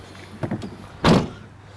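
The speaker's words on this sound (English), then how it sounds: "So shut the boot." A 2010 Peugeot 3008 1.6 HDI boot is shut with a single solid thump about midway, after a couple of lighter knocks and rustles.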